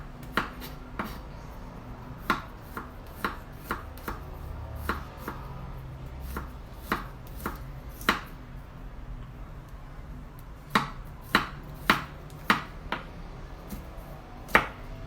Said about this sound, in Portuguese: Picar o alho. Depois eu vou dar mais uma laminadinha nele, tá? Cortar ele um pouco menor.